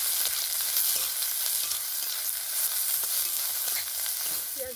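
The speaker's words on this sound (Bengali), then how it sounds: "পেঁয়াজগুলো দেওয়ার পরে একটু ভালো করে তেলের সাথে নেড়ে চেড়ে নিয়েছি।" Sliced onions fry in hot oil and are stirred in the pan, producing a steady, dense sizzle with soft scraping strokes heard up close and unbroken throughout.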